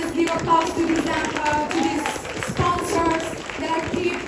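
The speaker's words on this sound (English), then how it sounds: "Please just give applause to these" Scattered clapping rises from a small audience at an event closing as sponsors are thanked, uneven individual claps over a few seconds with a voice talking through them.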